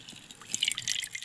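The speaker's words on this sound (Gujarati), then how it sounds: "આપણે ચટણી લઈ લીધી ને હવે એમાં નાખશું પાણી" Water is poured into chutney in a pot for bhel, a light splashy trickle with dripping, fairly soft and close, with no voices.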